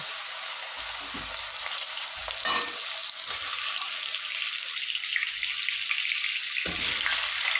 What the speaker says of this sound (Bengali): এবার ওই তেলে আমি বেগুনগুলো ভেজে নেব